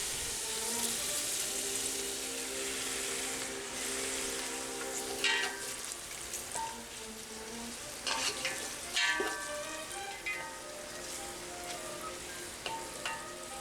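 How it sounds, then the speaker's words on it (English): Meatballs and sausage sear in a huge Staub enameled cast iron cocotte, giving a steady close sizzle and hiss with occasional scrapes and knocks from stirring. No voices are heard. "We start off by searing the meatballs and the sausage to add even more flavor"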